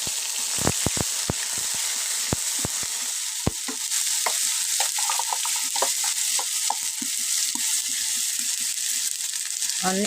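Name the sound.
frying gourd peel paste in hot mustard oil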